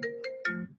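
A mobile phone ringtone plays a short, bright electronic melody of three quick tones at moderate volume, with no voices over it.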